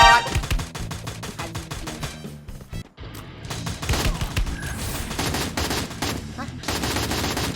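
An M4A1 rifle in the game Free Fire fires rapid bursts, dense loud volleys with one brief pause before the shooting resumes, while a voice talks over the gunfire.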